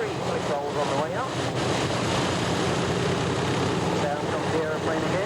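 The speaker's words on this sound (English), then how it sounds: "The aeroplane again, powered up into that vertical climb by 180 horsepower Lycoming flat 4 engine" A 180 horsepower Lycoming flat-four engine drones on an aerobatic aeroplane pulling into a vertical climb at an airshow, a steady loud propeller roar with slight pitch wobbles, heard over a commentator talking.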